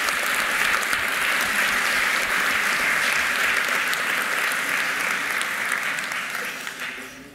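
A conference audience gives sustained, even applause for tool maintainers, a broad wash of many hands clapping that holds steady before tapering off near the end.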